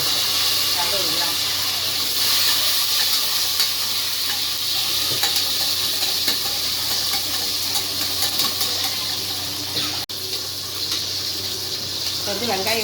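Onions and curry leaves sauté in a pan with a continuous close sizzle and occasional stirring scrapes, with a voice speaking over the frying.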